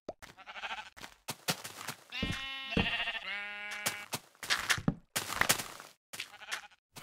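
Minecraft sheep bleating in a video game, several wavering, nasal bleats in a row, some overlapping, fairly close and clear with short gaps between calls.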